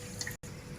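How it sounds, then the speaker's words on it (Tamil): Coconut milk poured into a rice cooker while making ghee rice: a brief liquid trickle and drip, close and soft, with a short break midway. "இப்போ இதுக்கு 2 கப் தேங்காய் பால் சேர்த்துருவோம்."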